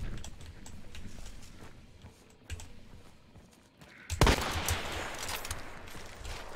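A Hunt: Showdown bomb lance fires in one sudden, loud blast after quiet footsteps and rustling, then leaves a long, noisy rumbling decay.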